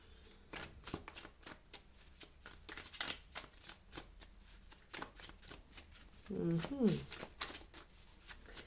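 A second deck of tarot cards is shuffled in a steady run of soft, papery riffles and flicks, with a louder burst of handling near the end, close and fairly quiet.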